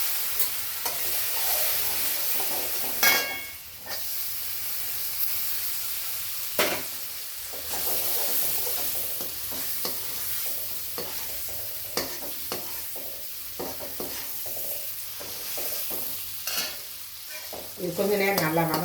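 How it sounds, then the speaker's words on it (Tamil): Paneer sautés in a pan with chilli powder and turmeric, throwing off a steady close sizzle. A spoon scrapes and stirs through it in repeated strokes, with a few sharp clatters against the pan and no talking. "இது கொஞ்சம் நேரம் நல்லா வதங்கட்டும்."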